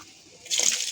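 Soybean oil pours briefly into a pan, a short soft splashing rush that swells in the second half after a near-silent start, close and without speech.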